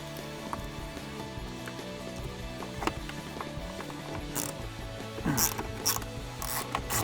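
Quarter-inch drive ratchet backing screws out of a Jeep Wrangler JL dash panel, giving rapid close clicking pawl bursts in several short runs, steady and fairly loud with no talking.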